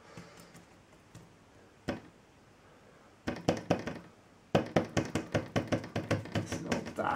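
A paintbrush taps against a vibrating hardboard panel while painting a woodland scene, producing sparse knocks at first, then a rapid run of sharp, close taps with a slight rattle.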